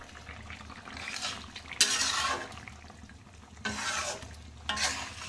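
Meat curry being stirred and cooked in a pan, with a spoon scraping the pan in several bursts over a steady low sizzle, close up and with no talking.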